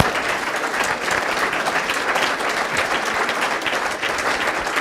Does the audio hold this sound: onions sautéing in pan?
no